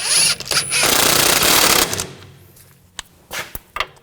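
A power tool rattles hard in loud bursts, tightening a nut on the front strut link of a 2000-2006 BMW X5, then gives way to quieter clicks and handling noises.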